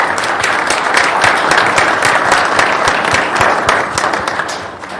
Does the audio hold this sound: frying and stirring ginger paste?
no